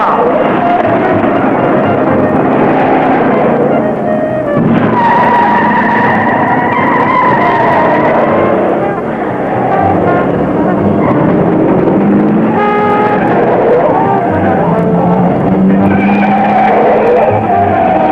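Race cars roar on the dirt section of a course with hairpin turns, engines loud and continuous with tire skids and squeals layered on top as cars pass close.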